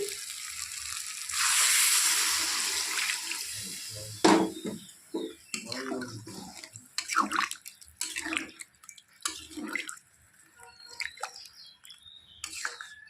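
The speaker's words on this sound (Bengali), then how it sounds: "এখন আমি এর মধ্যে দিয়ে দিব ঝোল" Broth poured into goat meat cooking in a pot, a brief rushing splash of liquid followed by stirring clatters and sizzling bubbles, close and moderately quiet.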